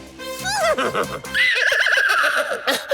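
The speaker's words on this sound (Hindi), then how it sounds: "देखो कैसे गधा घोड़े की आवाज निकाल रहा है" A donkey gives a loud, close horse-like whinny with a rising then quavering pitch and breathy snorting, sounding alone.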